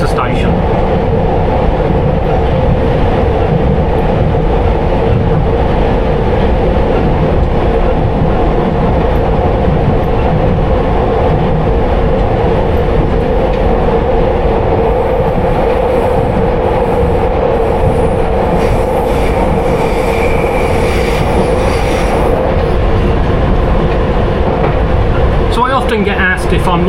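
Steady, loud rumble and roar of a London Underground Piccadilly line train running through tunnels, heard from the rear cab, continuous throughout with rattling wheel noise and a brief rise in high squeal near the end; a voice speaks over it.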